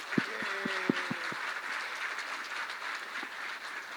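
An audience at a live talk with an author in Indore breaks into sustained applause, a dense wash of clapping that fills the room and continues throughout, with a few brief tonal beeps at the start.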